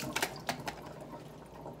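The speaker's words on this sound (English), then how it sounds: "I run water over top of this just because it is a salt water solution" Tap water running over the salt-water cartridge of a Navage nasal cleaner, a steady close splashing stream with a few brief louder spatters near the start, no talking.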